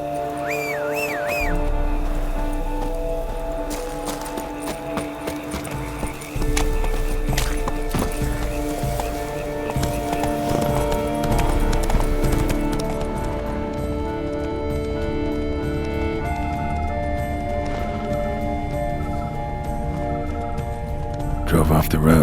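Roach, a horse in The Witcher 3, galloping with a fast steady clip-clop of hooves close by, joined by a short whinny, under game music and ambience, with speech over it.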